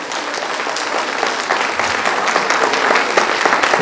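Audience applause at a women's empowerment gathering in Hanumakonda, Warangal: a continuous wash of many hands clapping that swells slightly louder toward the end.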